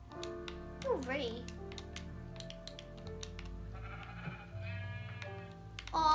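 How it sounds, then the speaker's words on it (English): Sheep bleating in the Minecraft video game, a short wavering bleat near the start followed by game sounds while someone talks over it. "I found a rare sheep."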